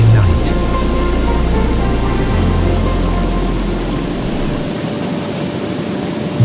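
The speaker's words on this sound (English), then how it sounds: "the journey turns toward a place where the sound of rushing water echoes day and night" Roaring, continuous rush of water at Niagara Falls on the Ontario–New York border, a steady broadband wash that holds loud and unbroken throughout, with a low rumble underneath and no voices.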